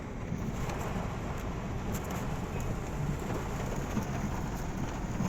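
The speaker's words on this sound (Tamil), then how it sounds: "டேமில் சரியான மழை." Heavy rain pours down at a dam, a dense and steady roar of drops that holds at the same level throughout. No voices are heard.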